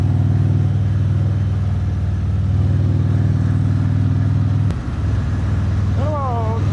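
Harley-Davidson motorcycles riding along a winding country road, a steady deep engine rumble close by throughout, with a brief dip and a short rising whine near the end.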